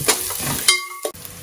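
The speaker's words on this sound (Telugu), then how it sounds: "పచ్చిమిరపకాయలు కూడా చక్కగా మగ్గనివ్వండి" Green chillies sizzle in ginger-garlic paste in a pan for a mutton chana dal curry, a steady close frying hiss broken by a couple of stirring scrapes and short bursts.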